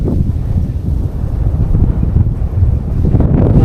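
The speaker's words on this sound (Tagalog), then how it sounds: "Napakalakas ng hangin." Strong wind on a mountain summit roars and buffets continuously against the microphone, a loud low rumble with gusts swelling throughout and no other sounds standing out.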